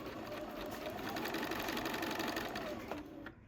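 A sewing machine stitches a small hexagon pincushion, whirring steadily and close at a fast even rate for about three seconds, then stopping. No voice is heard.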